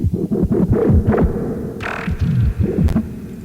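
A muffled, low synth growl through a low-pass filter with heavy ambience throbs and wobbles in uneven pulses, dull and washed out, with a brief brighter swell near the middle.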